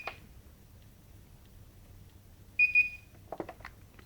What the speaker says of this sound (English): press and hold stop, and also press and hold speed down until it beeps